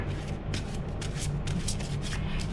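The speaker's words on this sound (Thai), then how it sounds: "สับไพ่ด้วยมือซ้ายนะคะ" Tarot cards shuffled by hand give a steady, close, soft riffling and rubbing that runs through the whole stretch with small rhythmic surges and no talk.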